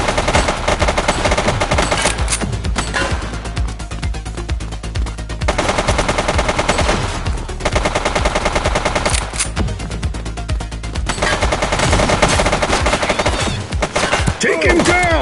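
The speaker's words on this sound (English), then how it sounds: "He's shooting!" Sustained automatic gunfire in the police video game The Precinct, dense rattling bursts nearly continuous for over fifteen seconds, loud and close with brief pauses between volleys.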